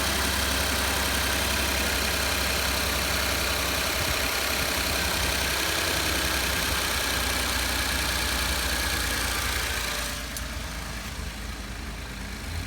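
A 2012 Ford F-150 EcoBoost idles steadily and close, a continuous engine drone carrying faint, fast ticking from the fuel injectors, with a slight change in tone near the end.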